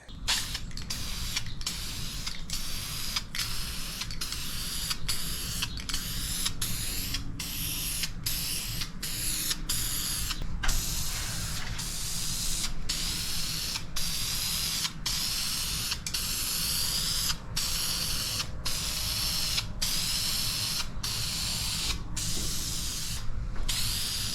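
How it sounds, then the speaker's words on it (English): Etch primer sprayed onto a shop truck's body: a steady loud hiss from the spray gun, broken by regular short clicks and pauses of the trigger, close up and continuous with no speech. "Start with the first coat of etch primer, and then we will start with the mud."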